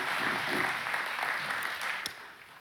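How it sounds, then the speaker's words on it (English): An audience at a business conference in Lynchburg, Virginia applauds with a dense, steady wash of clapping that fades toward the end. "give Doug Hurley a round of applause"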